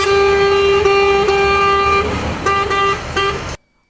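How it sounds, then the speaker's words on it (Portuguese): Truck horns blare during a street protest in a city, a long sustained honk followed by several shorter rhythmic blasts, loud and close, cutting off abruptly into silence. "Caminhoneiros também participaram dos protestos com buzinaço em vários locais da cidade."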